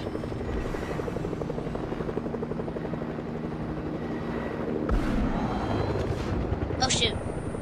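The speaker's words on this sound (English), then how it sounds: "Oh, there's a helicopter." Helicopter in the Fortnite video game, a steady rotor thrum holding loud and even throughout, with game effects and a brief higher whine near the end.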